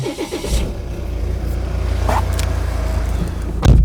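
A 2018 Volvo V40 with a 2-litre diesel engine cranks and catches, then settles into a steady, loud close-up idle rumble, with a brief surge near the end.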